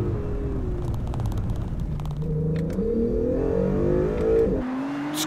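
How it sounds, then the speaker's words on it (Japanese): A Honda NSX runs on a dry track, its engine note rising and falling with tire noise and short squeals under hard repeated braking, a steady close roar throughout with a drop at the end. "この日の路面状況を把握するためにフルブレーキングを繰り返す。"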